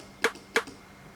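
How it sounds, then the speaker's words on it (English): Two sharp, bright snare hits from a trap beat, evenly spaced and alone with no other instruments. "I added one more snare just to fill one last pocket"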